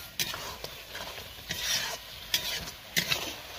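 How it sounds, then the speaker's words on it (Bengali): Potato being stir-fried with spice paste for rohu fish biryani, a spatula scraping and stirring in a pan with soft sizzling, a few distinct scrapes close by. "আলুটা তার সঙ্গে আরো ভালো করে কষে নিব"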